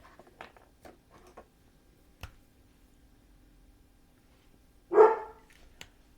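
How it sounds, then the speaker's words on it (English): A dog gives a single loud, close bark near the end, following a few faint taps and clicks in an otherwise quiet room. "I'm sorry for the barking, y'all."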